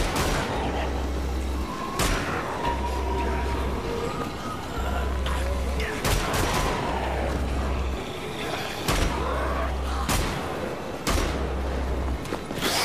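Bursts of gunfire and heavy impacts in the shooter game Wolfenstein: The Old Blood, recurring in loud clusters, with a low thumping pulse between them and a voice talking under the action.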